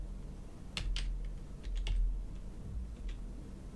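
Computer keyboard typing code, a sparse run of soft close keystrokes over low steady background hum.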